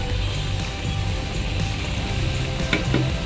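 Fried bitter gourds tipped into a pan of fish curry set off a steady, close sizzle of frying, with light stirring clatter running through it and no talking.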